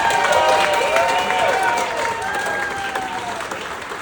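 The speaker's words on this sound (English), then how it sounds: "Give her a round of applause, everybody." Wedding guests applaud the bride during a best man speech, loud clapping with some cheering that slowly tapers off.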